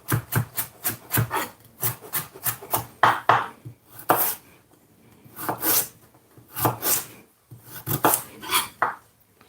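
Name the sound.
knife julienning vegetables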